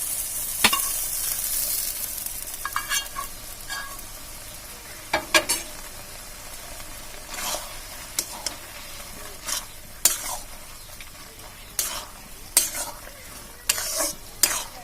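Taro greens with fried prawns stirred in a hot pan, a steady sizzle of frying under repeated sharp scraping and stirring strokes at close range, with no talking.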